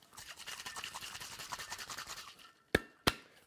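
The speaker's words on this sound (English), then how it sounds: "So we want to give it a quick dry shake." An egg white cocktail gets a dry shake in a shaker without ice, giving a quiet rapid rattling rhythm for a few seconds, then two sharp knocks.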